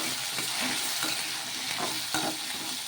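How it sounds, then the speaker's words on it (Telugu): Grated coconut, coriander, mint and garlic cloves sizzle steadily in a hot pan while a spoon stirs them, giving a close, continuous frying hiss broken by soft rhythmic scraping strokes. "ఇలా ఈ విధంగా బాగా కలిపేసుకొని ఇంకా మొత్తం కూడాను ఇప్పుడు ఒక నిమిషం పాటు ఇలా ఫ్రై చేసేసుకొని"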